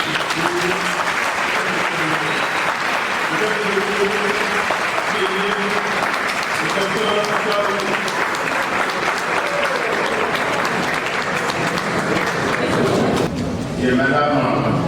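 Sustained audience applause and ovation at a blood donation drive held at a university, dense clapping from a large crowd throughout with voices mixed in, easing briefly near the end.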